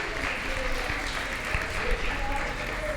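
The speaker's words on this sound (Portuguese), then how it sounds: "Aplauda o Senhor Jesus nessa noite" A church congregation claps steadily and continuously during an evening worship service, filling the space with even, dense applause.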